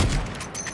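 A single sniper rifle shot in COD Mobile, a sharp loud boom at the very start that quickly decays into a short ringing tail.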